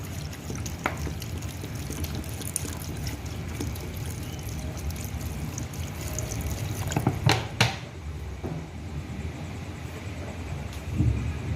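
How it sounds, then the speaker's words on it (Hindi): Two glasses of water poured into a pot of aloo gosht seasoned with salt, red chili and turmeric before pressure cooking: a soft, steady trickling pour with drips and a few sharp clinks of metal or glass near the end. "2 गिलास इसमें पानी जाएगा।"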